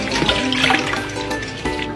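Boiled pork belly being washed, with splashing and running water swishing close by in short bursts, without any talk.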